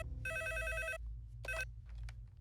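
A telephone rings twice on an outgoing call in short electronic bursts, close and clear, with faint noise between the rings.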